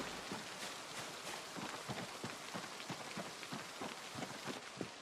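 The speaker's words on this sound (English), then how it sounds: "I hate trying to talk to you out in the rain here." Steady rain pours down outdoors in a role-play video game, a dense continuous hiss with scattered heavier drops pattering throughout, loud and unbroken with no voices.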